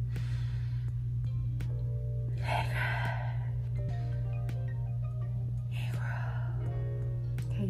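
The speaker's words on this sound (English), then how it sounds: "We're gonna breathe in and then exhale a word" Deep breaths during a guided breathing exercise, with two audible inhale-and-exhale swells close to the microphone over a loud, constant low electrical hum and faint ticking.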